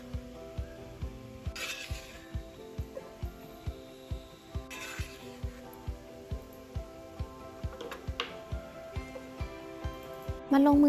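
Bacon frying in olive oil in a pan, with a steady sizzle under repeated rhythmic clicks and scrapes of stirring, close and moderately loud throughout, ending in a brief louder noise.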